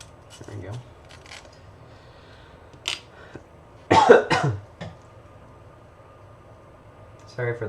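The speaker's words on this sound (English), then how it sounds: "Sorry for the cough." A single person coughs a few times in short rough bursts at close range, during a bolt and spacer job while stacking a Polystack, with quiet handling sounds between.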